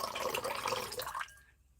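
Blue camphor water poured by hand, a close liquid splash and trickle running steadily for over a second, then tapering off into near silence.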